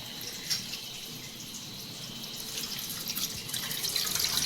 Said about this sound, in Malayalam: നന്നായിട്ട് പിഴിഞ്ഞിട്ട് ഒരു പാത്രത്തിലേക്ക് ഒഴിച്ചു കൊടുക്കാം.